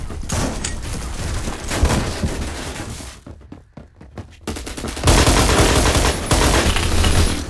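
Sustained automatic gunfire in the Phantom Forces shooter game, dense and loud, dipping briefly into a few spaced shots before a heavy continuous burst resumes.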